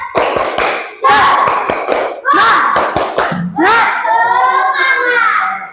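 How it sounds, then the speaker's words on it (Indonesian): An Indonesian elementary class does a rhythmic 'tepuk semangat' cheer, with bursts of sharp group clapping in a patterned beat alternating with children's chanted voices, loud and close in a classroom. "kita tepuk semangat dulu. Tepuk semangat."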